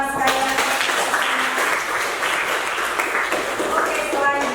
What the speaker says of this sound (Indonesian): Beri dulu tepuk tangan sekalian.